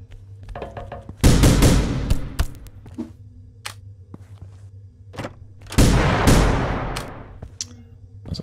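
Gunfire from a weapon in The Final Station rings out: two loud, sharp shots several seconds apart, each with a long ringing tail, separated by quieter clicks and thuds in a hushed game scene.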